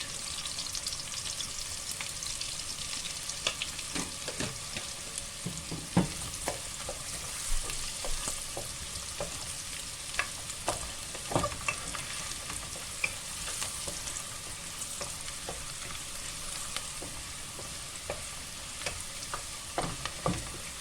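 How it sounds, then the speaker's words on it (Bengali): Garlic sizzles steadily in hot oil in a pan, with frequent scraping knocks of a spatula stirring it, close and continuous without talk. "যে রসুনটা সুন্দর ভাজা হয়ে গেছে।"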